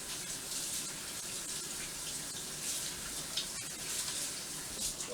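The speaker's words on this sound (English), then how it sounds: "Wash my hands." A kitchen tap runs in a steady faint hiss of water while hands are washed, continuous throughout with no voices.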